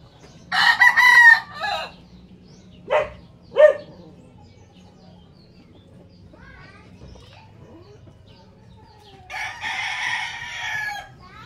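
Four-month-old breeder chickens cluck and squawk in short bursts while being bathed, with a rooster-like call near the start and a longer flurry of clucking toward the end over a quiet, low hum.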